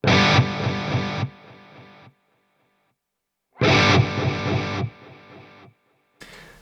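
Two short bursts of distorted electric guitar through a BOSS DD-500 delay with modulation depth at zero, each cut off and followed by a brief dry decay with no wavering echo tail, then silence.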